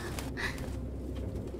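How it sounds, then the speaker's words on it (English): Pigeons in the game Detroit: Become Human, a soft, low cooing over a steady ambient hum, fairly faint with no talk. "Holy crap, there's so many pigeons."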